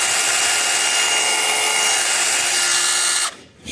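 A battery-powered HEIMERDINGER LB212 handheld chainsaw cuts through wood with a loud, steady whining drone that holds for about three seconds before abruptly dropping away.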